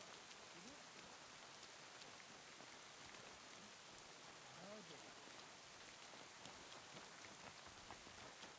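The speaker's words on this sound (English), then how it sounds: "Rain again." Steady rain in Kingdom Come Deliverance 2 hisses throughout, a soft, even downpour with faint murmurs and small blips underneath.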